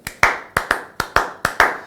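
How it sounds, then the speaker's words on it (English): Hands clap a short rhythmic pattern in a classroom game, seven sharp claps in uneven groups, close and loud with no talking. "Or you clap a different rhythm like"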